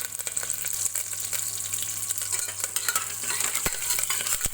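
Curry leaves sizzle in hot oil for a tempering of an onion curry, a dense steady frying hiss with quick stirring taps and clinks close by, no voices.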